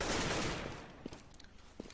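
Gunfire in the CS:GO game on the de_mirage map during a competitive match, a rapid burst of shots fading out, then two sharp single reports, fairly faint.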